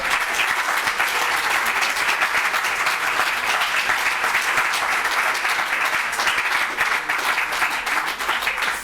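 A large audience at a New York University reading breaks into sustained, loud applause, with a dense wash of clapping that stays steady throughout.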